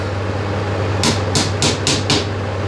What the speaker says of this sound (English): can hammer in a little wedge to spread it and give yourself a little more space.